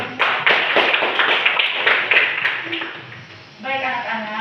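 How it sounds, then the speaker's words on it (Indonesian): Children in an Indonesian language class clap together indoors, a fast run of sharp, close claps that tails off, followed by a teacher's voice speaking. "tepuk tangan dulu untuk kita semua"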